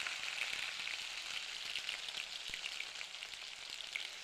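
Chopped tomato fries in hot oil with dry chilli, bay leaf and cumin, giving a soft, steady sizzle with light crackles, fairly quiet and close, and no talking.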